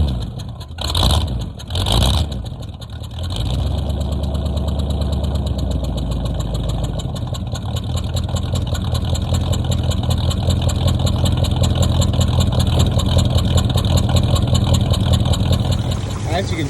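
A 1967 Dodge Coronet with header mufflers and a 4-inch exhaust with short turn-downs cranks over and fires, then settles into a loud, steady, rumbling idle close by, with a faint header leak and some talk over it.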